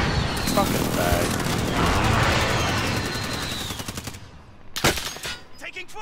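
Sustained machine gun fire in a multiplayer shooter video game, loud rapid bursts dominating the first few seconds before tapering into scattered shots and impacts, with voices in the background.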